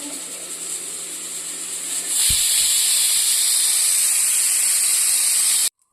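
A pressure cooker cooking jackfruit seed masala hisses with steady steam, then bursts into a loud, sharp whistle that holds for several seconds before cutting off abruptly, with no talking.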